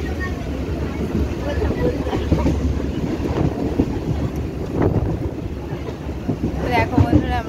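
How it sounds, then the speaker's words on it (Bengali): Inside a moving train heading home toward Serampore, a steady low rumble and rattle of the carriage runs throughout with wind noise, while people talk over it. "ট্রেন চলছে, দেখো আমরা ট্রেনের মধ্যে আছি"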